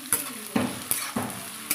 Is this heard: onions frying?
yes